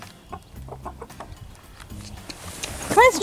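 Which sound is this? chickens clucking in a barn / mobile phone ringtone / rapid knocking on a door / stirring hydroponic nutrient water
chickens clucking in a barn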